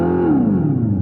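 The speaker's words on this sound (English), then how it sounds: "the hallmarks of a throaty exhaust are artificial" A deep, throaty artificial exhaust tone from an electric car rumbles and drops in pitch, like an engine easing off.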